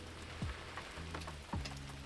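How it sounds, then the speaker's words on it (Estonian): Rain falls outside in a faint, steady patter with a few louder drops standing out against the quiet background, and no voices. "Väljas sajab, vahepeal rohkem, vahepeal natukene vähem"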